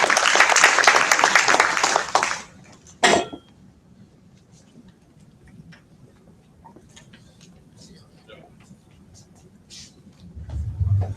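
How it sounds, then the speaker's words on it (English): Audience applause at an IT summit, a loud dense burst of clapping for about two seconds that cuts off, followed by a short sharp noise and a quiet room with faint scattered sounds. "Let's give them one more round of applause."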